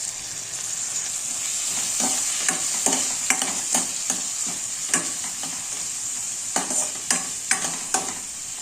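Curry leaves and ginger-garlic paste crackle in hot oil for a tempering, with a steady sizzle broken by repeated stirring scrapes of a spoon in the pan, close and fairly loud.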